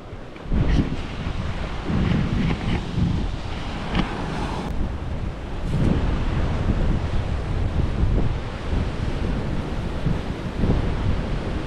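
Ocean waves and strong wind along the coast at Paritutu Rock make a loud, continuous roar, with gusts buffeting the microphone and surf surging and washing throughout, and no voices.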